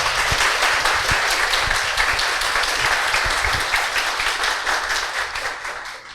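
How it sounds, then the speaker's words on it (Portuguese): A large lecture audience applauds steadily, dense overlapping claps filling the room, fading slightly toward the end. "Vamos agradecer ao Adalberto em forma de uma salva de palmas para ele."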